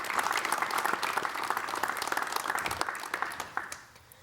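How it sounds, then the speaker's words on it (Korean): A Korean television studio audience claps to welcome the descendants of independence activist Kim Dong-sam, a lively, crisp applause with sharp individual claps standing out, holding strong for several seconds and then thinning out toward the end. "여러분 박수로 맞이해 주십시오."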